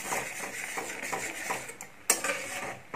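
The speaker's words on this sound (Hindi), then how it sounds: "आप इसे लगातार चलाते हुए पकाएं" A spoon scrapes and stirs a thick milk cake mixture with sugar in a metal pan, steady rhythmic scraping strokes with a faint sizzle, close and fairly quiet, with one sharper clink near the end.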